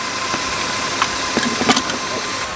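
A BMW E36 engine idles steadily with a low, even hum, punctuated by a few faint clicks and ticks near the end.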